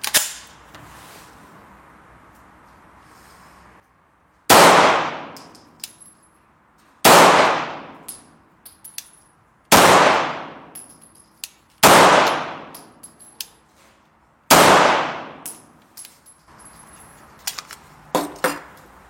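A Walther PDP-F Compact pistol fires five or six sharp, loud single shots at irregular intervals of about two to three seconds. Each shot is followed by a short ringing decay and faint metallic clinks.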